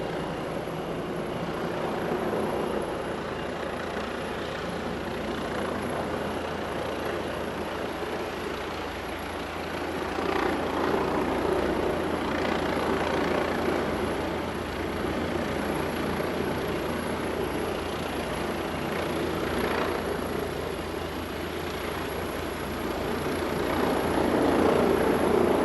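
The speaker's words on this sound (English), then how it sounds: "Helicopter is right above us here, and it's going to be doing a nearly vertical, steep approach into our spot." A helicopter hovers overhead and makes a steep, nearly vertical landing approach at an outdoor event, a steady loud rotor and engine roar that swells slightly near the end, with no talking.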